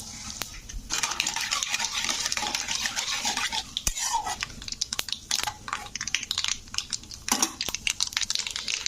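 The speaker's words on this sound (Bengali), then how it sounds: "তেলটা গরম হয়ে গেছে এবার আমি ফোড়নটাকে প্রথমে দিয়ে দিলাম" Tempering spices fry in hot oil for a bottle gourd curry, a continuous bright sizzle broken by metallic clinks and scrapes of a spoon against the pan, close and steady with no voices.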